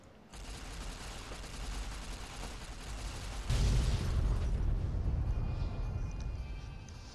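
A sudden loud boom erupts midway in Fallout: New Vegas, followed by a sustained rumbling roar and crackle that slowly fades over several seconds.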